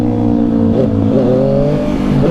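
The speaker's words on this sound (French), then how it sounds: "Et l'accélération, mais regardez, la moto elle part d'un coup." A 2023 Yamaha MT-09 motorcycle accelerating hard in town, its engine tone climbing in steady rising harmonics that dominate the short stretch, loud and close with no talk over it.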